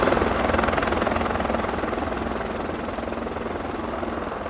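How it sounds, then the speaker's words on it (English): A helicopter flies close by, its rotor producing a loud, steady rapid chopping throb over a broad engine roar that fades slightly. "I didn't know Steve could fly a helicopter"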